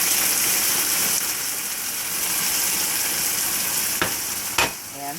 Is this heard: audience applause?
no